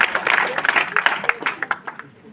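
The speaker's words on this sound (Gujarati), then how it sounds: "સાહેબને ખૂબ ખૂબ તાળીઓના ગણગણાટથી વધાવી દઈશું." Students and guests at a Class 10 school farewell ceremony applaud, a burst of clapping that starts loud and thins into scattered, fading claps toward the end.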